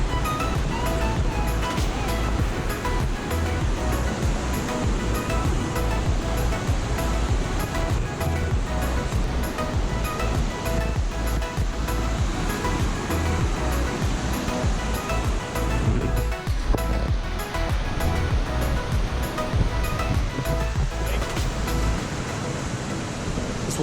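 Hot spring river water in Yellowstone flows in a steady, loud, broadband rush that stays constant and unbroken throughout, with no voices over it.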